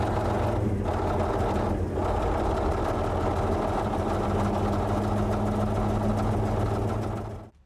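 Heavy machine engine idling slightly raised during warm-up, a steady low mechanical drone with a constant hum, running alone without talk and cutting off abruptly at the end.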